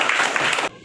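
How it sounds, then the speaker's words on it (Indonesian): Brief burst of classroom applause from pupils, dense and close, clapping steadily before cutting off abruptly after well under a second. "bagus, tepuk tangan untuk kita semuanya"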